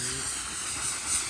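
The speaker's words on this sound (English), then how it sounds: "it's very dry steam" Dry steam hissing steadily from a carpet steam cleaner working on a BMW's interior carpet: a continuous broad, airy hiss, close and fairly loud, with faint talk underneath.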